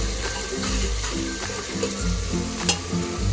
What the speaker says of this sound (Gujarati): થોડીક આમ બ્રાઉન કલર ઉપર થાય ને ત્યાં સુધી તેને તેલમાં તળાવવા દેવાનું